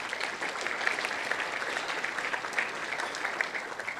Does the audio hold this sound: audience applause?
yes